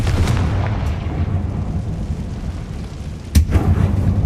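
A Confringo fire spell explodes in the Hogwarts Legacy video game inside a closed mine tomb, a loud low rumbling blast with a sharp second burst near the end, dense and booming with no talk.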